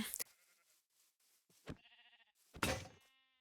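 Sheep bleating in Minecraft: a few short, nasal bleats spaced across a few seconds, with a soft thunk partway through, heard alone and fairly close.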